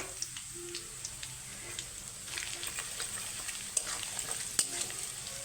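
Ground coriander and cumin stirred and fried in a pan for a rice dish: a constant close sizzle with light scrapes and ticks from the stirring, and no voices.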